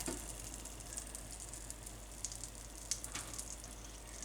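A small knob of butter sizzles in a frying pan while an egg sandwich toasts, giving a faint, steady crackling hiss with scattered little pops, no talk over it.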